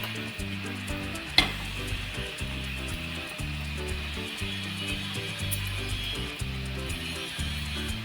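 Banana flower sabzi with freshly added grated coconut is stirred in a pan, giving a continuous soft scraping and gentle sizzle over a low steady hum, with one brief sharp clink early on.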